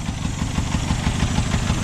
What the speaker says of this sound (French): coupe le moteur, on va le remettre l'antiparasite là